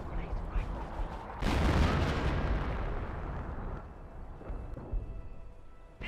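A heavy artillery barrage in the World War II strategy game Company of Heroes, a burst of loud booming impacts that swells suddenly, then rumbles on and slowly fades.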